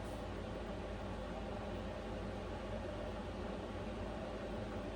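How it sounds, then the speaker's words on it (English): A faint, steady whooshing diesel heater fan drones with the low mechanical hum of its fuel pump beneath it, unchanging and constant, no voices. "I feel like the fan just turned up a smidge."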